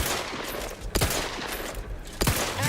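Gunfire from The Outer Worlds 2 crackles in a dense, steady stream, with two sharper, louder bursts standing out against the continuous barrage.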